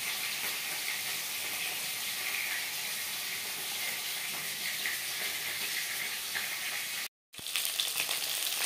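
Five finely chopped onions with salt fry in a pan for a fish curry, giving a steady, close sizzle that runs almost unbroken, with one brief cut near the end and no voices.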